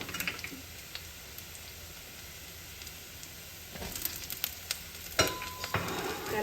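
Potatoes fry in sesame oil with a steady, fairly quiet sizzle, joined in the second half by a run of close, crisp clicks and scrapes from stirring.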